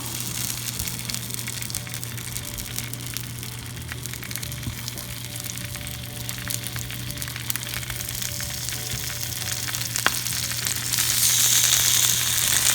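Onions, carrots and capsicum frying in oil on a tawa, a steady close sizzle throughout that swells louder near the end, with no talking.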